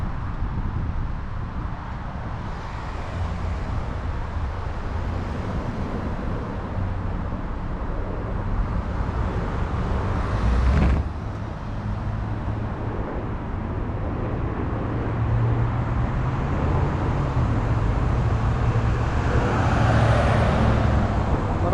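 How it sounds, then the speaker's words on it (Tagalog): Steady road traffic on a busy Toronto street, a continuous low rumble of passing cars with one brief louder passing vehicle midway, heard alone without talk. "Marami nang sasakyan dito sa amin dito."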